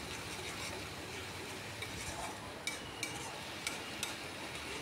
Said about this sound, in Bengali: পেঁয়াজটাকে এবার বারবার নাড়িয়ে ভালো করে কষিয়ে নিচ্ছি।